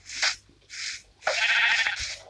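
Sheep in a farming video game bleat in short bursts, two brief calls followed by a longer, louder cry, all close and distinct.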